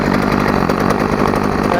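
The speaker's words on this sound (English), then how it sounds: "you heard the chainsaw run." A Homelite 3816 chainsaw engine runs loud and steady throughout, its rough, buzzing drone continuous with no pauses.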